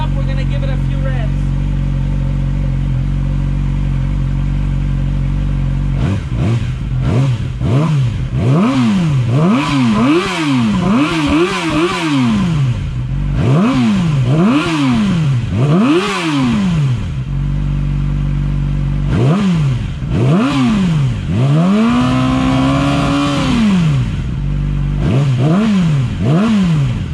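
A Yamaha R6 motorcycle, warmed up, revs repeatedly from idle in sharp rising and falling bursts, close and loud, with a pause before another long rev, while someone speaks near the bike.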